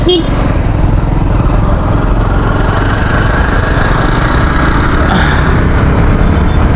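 A motorcycle engine runs loud and steady close by, a continuous rumbling drone throughout with voices faintly mixed in.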